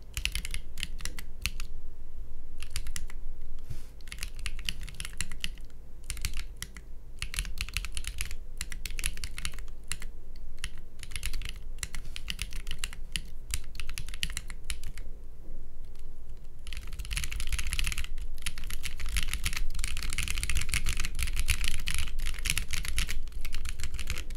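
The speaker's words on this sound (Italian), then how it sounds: "ero troppo lento per i miei gusti a scrivere con questa tastiera" Someone types on a computer keyboard that has been cut in half, a steady close clatter of keystrokes at a slow to moderate pace, growing slightly louder and busier toward the end, with no talking.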